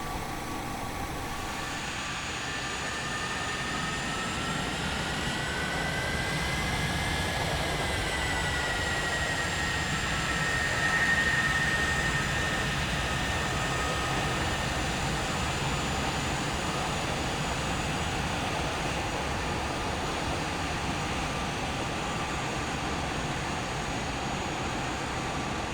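A Boeing 737 taxiing in the X-Plane 10 flight simulator, a steady engine drone with a whining tone that rises slightly, continuous and fairly loud throughout with no talk.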